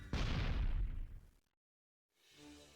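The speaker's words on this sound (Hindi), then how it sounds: "डॉक्टर वाइट उस पर फायर कर देता है।" A single loud gunshot in an animated horror cartoon bursts out close, and its blast rumbles and fades over about a second. Brief silence follows, then a faint tonal sound rises.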